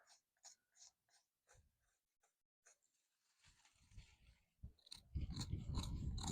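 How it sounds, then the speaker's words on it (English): A blade gently scrapes bark and cambium from a fruit tree branch for air layering, giving soft intermittent scratches and clicks close by that build into a denser, louder rasping toward the end. "We're going to continue to gently scrape."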